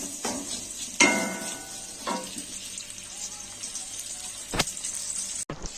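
Sliced onion and capsicum frying in mustard oil with cumin seeds, a soft sizzle beneath a few sharp stirring scrapes and clatters spaced out over the clip, close by and with no talking.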